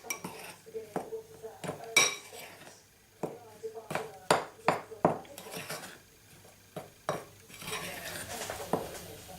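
Dry cookie ingredients with cocoa powder and baking powder are stirred in a bowl, giving irregular scraping and clinking of a utensil against the bowl, close and moderately loud, with brief pauses between strokes.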